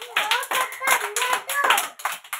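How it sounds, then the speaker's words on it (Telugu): Anganwadi children clap their hands loudly in quick, uneven bursts of sharp slaps, about a dozen claps in a couple of seconds, with children's voices mixed in. "క్లాప్స్ కొట్టండి అందరూ గట్టిగా."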